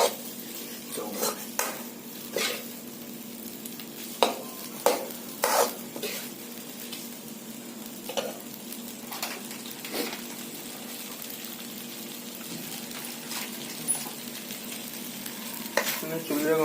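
Stirring chow mein in a pot over a clay stove, with steady sizzling and repeated metal scrapes and clinks of a utensil against the pan, close and alone with no voices.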